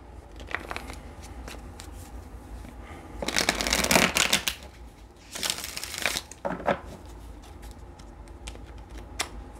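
Tarot cards being shuffled in several papery bursts, two long riffles in the middle, with lighter taps and rustles between them.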